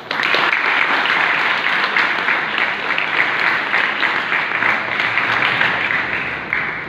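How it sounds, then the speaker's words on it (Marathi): An audience at a memorial gathering for Dr. Patangrao Kadam at Bharati Vidyapeeth claps in steady, full applause that carries on without a break for about seven seconds. "सुद्धा आपण टाळ्या वाजवल्या पाहिजे."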